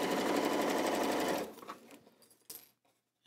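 Nearby, a sewing machine hums and rattles at speed, stitching two flat pieces of quilt fabric, then stops abruptly, leaving faint handling clicks and a short bump.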